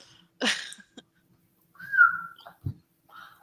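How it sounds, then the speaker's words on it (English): A person gives one short, clear whistled note that glides slightly downward. It is close and moderately loud, set between brief breathy puffs and soft clicks, with no talking. "I'm so excited that I can whistle again."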